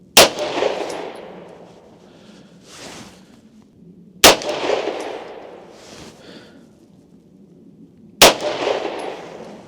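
Three sharp, loud Beretta M9A1 pistol shots ring out about four seconds apart at an outdoor winter target range, each followed by a fading echo, with no talking.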